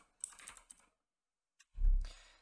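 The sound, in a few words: typing on a computer keyboard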